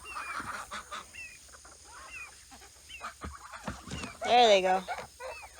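Geese honk as they trickle out of a fenced pasture run on a farm. Scattered nasal calls come from several birds, with one louder burst of honking near the end and a brief line of speech in between.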